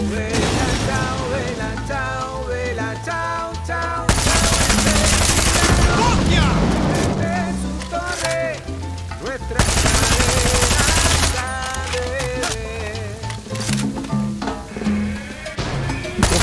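Rapid machine-gun fire, bursts of gunshots and heavy explosions in the video game Far Cry 6 play loud and close, with dense intense volleys over a game soundtrack.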